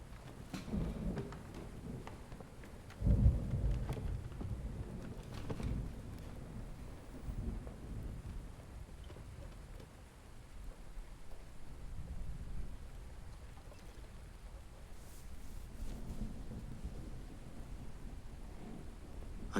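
A thunderstorm with steady rain and wind, marked by one loud, close rumble of thunder early on, followed by softer distant rumbling over the continuous downpour.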